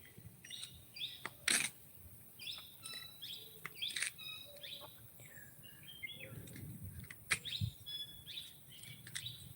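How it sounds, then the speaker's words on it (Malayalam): Several birds chirp and tweet close by, sharp high calls scattered irregularly over a quiet background with a faint low rumble. "കിളികളെ ശബ്ദമുണ്ട്"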